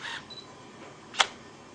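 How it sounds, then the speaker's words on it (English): On a Canon EOS 450D, the mirror drops back down with a brief tonal chirp, then one sharp mechanical click follows about a second later, close-up and quiet with no talking. "When I pressed the button, the mirror flipped back down again in order to take an AF reading. And then you heard the double beep to confirm the autofocus"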